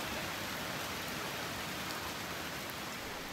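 A sudden heavy downpour near Blausee, Switzerland, rendered as a dense, steady hiss of rain that stays loud and continuous with no letup and no voices.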